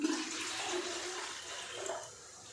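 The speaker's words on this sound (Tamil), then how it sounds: "நம்ம வந்து இதில் ரெண்டு சொம்பு தண்ணி ஊற்றணும்" Water pours steadily into a cooking pot for about two seconds, a close splashing rush that fades out at the end.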